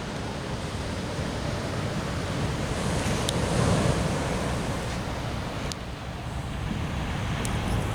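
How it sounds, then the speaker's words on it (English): Ocean surf rolls onto the shore at Doheny State Beach, a loud continuous wash of breaking waves mixed with gusty wind noise on the microphone. "but this is the beach here."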